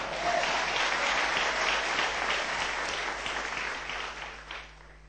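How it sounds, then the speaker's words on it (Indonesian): A church congregation claps in praise to God during a Sunday afternoon service, a dense, sustained wash of hands that holds steady and fades out near the end. "Beri tepuk tangan untuk Tuhan"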